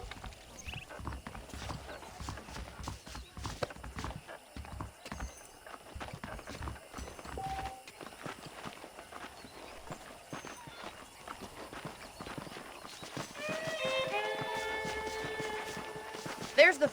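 Horses in the Western video game Red Dead Redemption clop along at a walk in repeated hoof beats. Saddle creaks and short whinnying-like tones rise near the end, and a voice talks over them.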